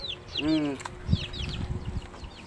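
Chickens cluck and call nearby, one drawn-out squawk standing out among scattered higher chirps, with faint background voices and rustling.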